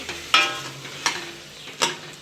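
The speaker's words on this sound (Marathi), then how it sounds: "आपण आता त्या फोडणीमध्ये छान मिक्स करून देऊ" Sprouts usal is stirred into hot, crackling tempering oil in a pan, giving three distinct scraping stirs over a low sizzle, close and clear with no talking.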